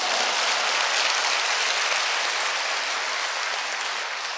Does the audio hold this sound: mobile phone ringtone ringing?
no